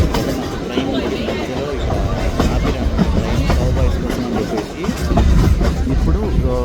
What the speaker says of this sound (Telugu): ట్రైన్ కూడా స్టార్ట్ అయిపోయింది.